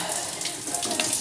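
Water hisses steadily from a shower head, a close, bright, continuous spray.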